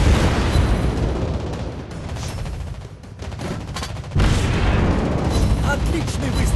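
Heavy naval guns fire in World of Warships Blitz, a dense run of booming shots and rumbling blasts that barely lets up, with a short lull before another loud volley.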